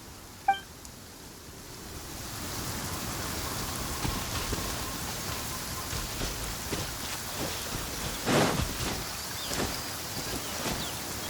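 Steady rain in a video game patters on surfaces with a soft continuous hiss, a short beep at the start and a louder burst of drops near the end.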